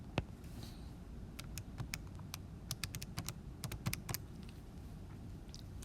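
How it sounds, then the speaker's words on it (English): Fingers tapping out numbers on a calculator, giving a series of quick, faint clicks in uneven bursts. The room is otherwise quiet. "So when I type that in my calculator,"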